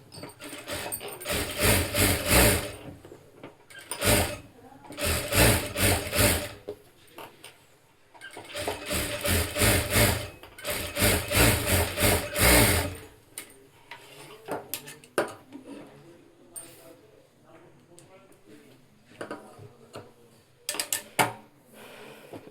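A sewing machine stitches along a fabric strip in several loud bursts of rapid whirring, pausing between runs, then quieter handling sounds follow; no one speaks.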